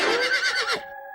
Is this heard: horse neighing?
yes